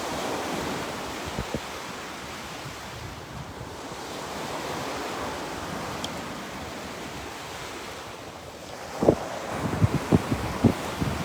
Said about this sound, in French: Nous voici à la plage de Châteaubriand.